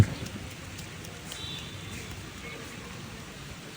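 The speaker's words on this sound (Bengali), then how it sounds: "বৃষ্টি হচ্ছে" Rain falls outdoors in a steady, even patter on surfaces, fairly close and continuous throughout with no other clear sound.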